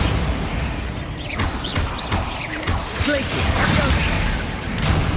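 Bombarda spells blast in Hogwarts Legacy combat, a steady loud stretch of crashing impacts, whooshes and rumbling debris, with a voice briefly heard amid the game noise.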